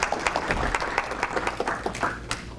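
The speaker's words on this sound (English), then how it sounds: "let's give him applause for Andrew" Audience applause at a local history presentation in a museum setting, many hands clapping in a moderately loud, uneven patter that thins slightly toward the end.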